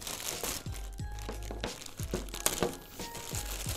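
Plastic and cardboard packaging of a Vegeto SSB Transcendence Art figure crinkles and crunches as it is opened, a steady close run of rustles with several sharper tears and thumps.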